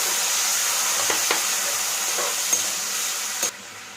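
Onion, tomato and tamarind sizzle steadily in a pan over high flame, a continuous frying hiss with a few soft stirring clinks, no talking.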